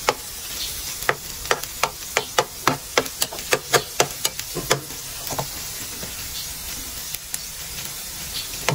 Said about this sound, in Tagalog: Kukulay mo lang ng konti yung bawang na yan.